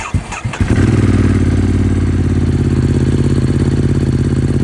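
A motorcycle with a newly installed link pipe cold starts after six weeks in storage: a few sputtering cranks catch within a second, then a loud, close, pulsing idle with a fast regular beat continues steadily.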